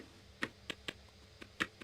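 Computer keyboard keys tapped in a few sparse, irregular clicks, faint and close, with no voices.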